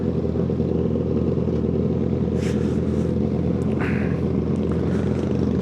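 Steady engine drone from motorcycles on a road during a group ride, a continuous loud low rumble with brief clattering and a few faint higher noises over it.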